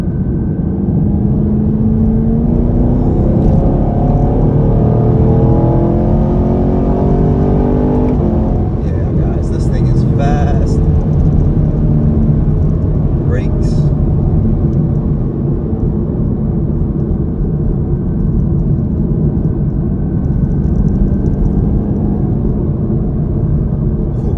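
A 2021 Chevrolet Camaro LT1 accelerating hard on a winding road in Mexico, a loud, close interior engine drone rising in pitch then settling, with someone talking over it.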